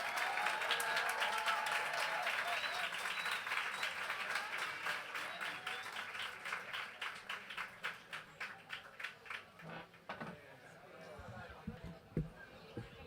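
A crowd at an evening talk event applauds a speaker, loud sustained clapping that gradually thins into scattered individual claps before fading out near the end.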